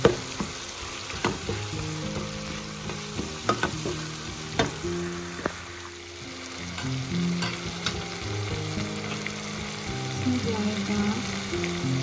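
Steady sizzling of ingredients for a spinach (palak) dish frying in a pan, with a spoon scraping and stirring through it in irregular knocks and clatters.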